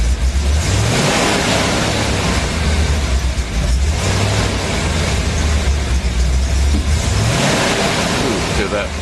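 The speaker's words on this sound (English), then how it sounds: "Ooh, hear that backfire just now." Car engine revving after a cold start, with a backfire: a loud, close mid-pitched engine climbs and falls through repeated revs over steady rumble, while a voice is heard faintly under the noise.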